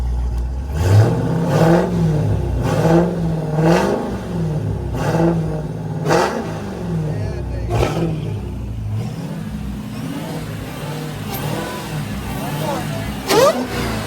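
A Dodge Hellcat engine swap fitted with an aftermarket intake is revved hard again and again, each loud rising roar falling back to a rumbling idle, with voices talking and shouting over it.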